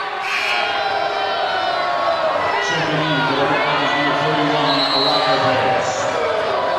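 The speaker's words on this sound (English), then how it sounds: "Crowd does not like that at all" Loud crowd noise fills a Wyoming high school basketball gym, Riverton against Evanston, as spectators groan and shout in protest at a rebound foul call, a steady dense roar of many voices with rising jeers.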